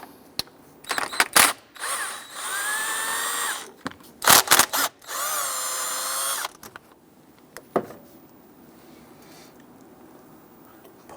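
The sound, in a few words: removing 10mm bolts from Jeep thermostat housing with power tool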